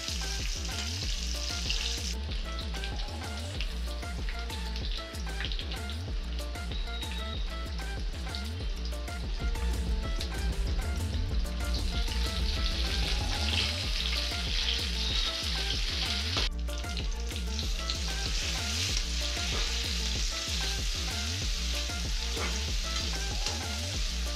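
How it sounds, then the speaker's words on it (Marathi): Chopped onion, tomato, capsicum and carrot sauté in a pan with a steady, dense sizzle and frequent scraping stirs, close and loud throughout with no talking. "लगेचच त्यात एक चिरलेला कांदा, टोमॅटो, शिमला मिरची, गाजर टाकून थोडे वाफवून घ्या."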